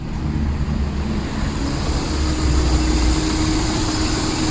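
A Perodua Kancil small car engine idles steadily just after starting, its radiator fan running alongside, a constant low rumble with a broad whirring hiss, close and even throughout with no talk.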